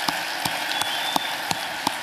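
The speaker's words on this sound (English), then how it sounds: "Give yourself a round of applause." Light, scattered clapping from an audience, a thin patter of hands with a few sharper claps standing out at a steady distance, fairly faint and without voices over it.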